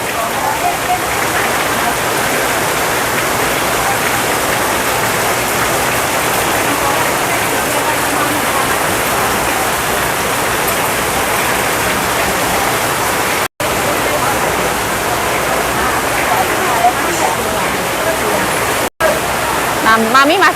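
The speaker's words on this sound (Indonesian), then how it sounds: "Nah, hujan deras kayak gini loh." Heavy rain roars steadily at a market as a dense, even wash of noise, with a voice faintly present underneath and two brief dropouts near the end.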